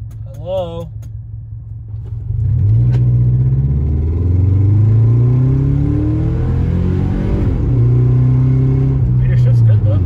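A cheap used Subaru Forester rumbles and revs while driving, its engine rising and falling through shifts with a loud steady drone, and people talk over it.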